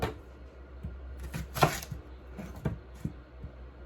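Onions are chopped on a board with a knife, an irregular series of crisp, close knocks with one sharper louder cut near the middle.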